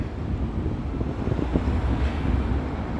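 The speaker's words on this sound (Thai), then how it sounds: "ยังได้ยินอยู่เลยค่ะรถไฟฟ้ารถรถไฟวิ่งนะคะ" A train crosses a railway bridge in Shanghai, heard as a low, continuous rumble with a faint rattle and some wind buffeting, with no talking.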